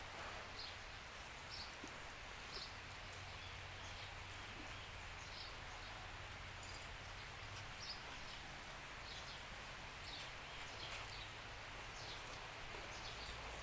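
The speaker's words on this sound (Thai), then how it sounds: "นี่ยฝนตกแรงเลยเห็นไหม" Heavy rain falls outdoors as a constant, faint, hissing patter with a few soft drips over it, steady throughout and with no voices.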